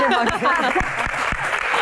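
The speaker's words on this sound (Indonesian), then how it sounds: "Baik, tepuk tangan." Audience applause during a women's empowerment Q&A session, a few scattered claps mixed with chatter and laughter as voices carry over it.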